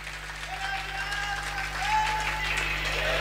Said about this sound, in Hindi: अरे ताली बजाओ अच्छे से।